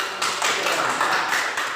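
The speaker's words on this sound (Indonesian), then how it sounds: "Iya, tepuk tangan." Young children clap their hands in an elementary school classroom, a short burst of group clapping at moderate volume with faintly rhythmic pulses, close and without talk.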